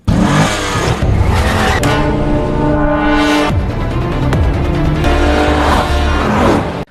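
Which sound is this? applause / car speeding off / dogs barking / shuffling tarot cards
car speeding off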